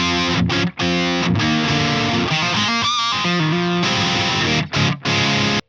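Electric guitar played through an amp's crunch channel with no boost pedal, loud distorted chords and riffs with short palm-muted stops, no talking.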